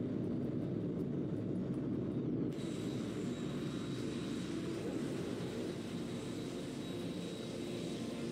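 A jet fighter in Tom Clancy's H.A.W.X 2 roars steadily on takeoff, a loud, dense engine rumble that holds throughout with a faint high whine joining partway, with no talking.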